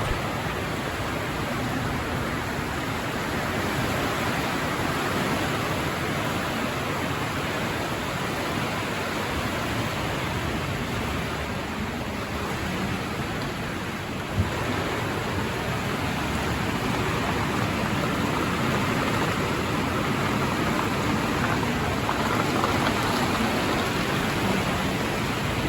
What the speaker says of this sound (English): Well, it decided to rain today. All outside construction stopped.